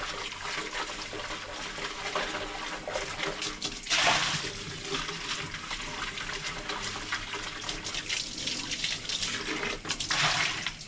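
Water runs and gushes steadily from a tap as paint is rinsed out of a clogged paint bucket in a paint shop, with louder surges near the start and end.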